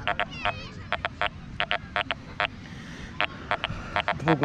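Quest X10 Pro metal detector giving an uncertain, iron-rejecting signal over a 2-grosz coin: a series of short, irregular tonal beeps and warbles, fairly close and clear over faint background noise.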